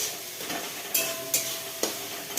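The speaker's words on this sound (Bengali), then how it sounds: "এই যে মশলাটা প্রায় ভাজা ভাজা হয়ে গেছে" Spices sizzle and crackle in a hot pan for egg curry, with a spatula scraping and stirring in a few sharp strokes.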